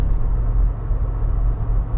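A 2024 Ford Bronco Raptor climbs a slight uphill, its engine a steady low rumble heard from inside the cabin, with a constant droning hum and no clear separate events.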